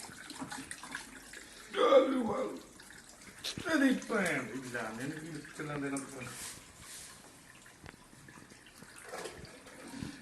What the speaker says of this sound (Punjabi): ਇਹ ਆਓ ਦੇਖੋ ਪਾਣੀ ਦੇਖੋ ਕਿਵੇਂ ਨਿਕਲਦਾ